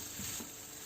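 An egg paratha cooks in a pan over low heat, giving off a soft, steady sizzle with faint crackles, quiet and close, with no voices over it.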